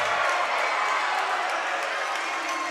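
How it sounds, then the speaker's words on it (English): Steady roar of a crowd in a school gym during a high school volleyball match, Summertown against LCHS, sustained and fairly loud cheering with no single voice standing out. "Now the crowd coming alive"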